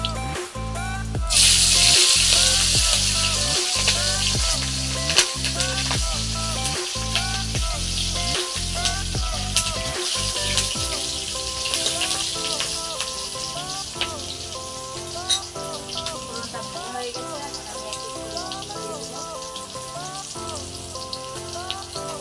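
Whole garlic and chopped green chilli frying in a pan, a dense hiss of oil throughout, with rhythmic low knocks in the first half before the sizzle carries on alone.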